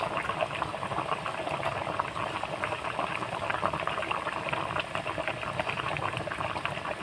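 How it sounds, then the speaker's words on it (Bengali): Fish curry with eggplant and potato bubbling in a pot, a steady, dense simmering boil that fills the whole stretch evenly, close up with no voices. "মাছ বেগুন আলু আর ঝোল একসাথে ফুটিয়ে নেব"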